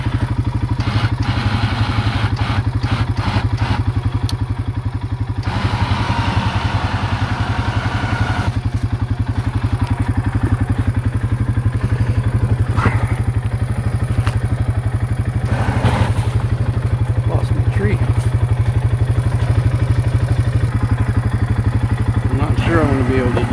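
A winch pulls with the engine running while helping a neighbor before a snow storm: a loud, steady low engine drone continues throughout, with clanking, clattering and thumps layered over it.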